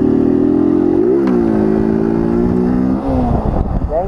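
A Honda Titan 160 motorcycle with a worn, slipping clutch climbs a steep hill, its engine holding a loud, steady revving drone close by, with a shift in pitch partway through and no talking.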